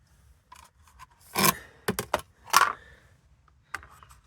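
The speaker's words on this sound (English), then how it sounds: "I'm just going to finish off now attaching the rest of them clips" Plastic clips pressed onto a car number plate to hold the letters, a handful of sharp clicks and scraping snaps close by, scattered irregularly over a quiet background.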